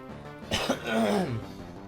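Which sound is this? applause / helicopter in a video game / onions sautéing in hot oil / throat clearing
throat clearing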